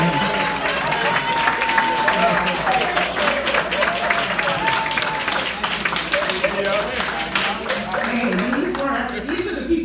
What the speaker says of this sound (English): please stand and let's give them a round of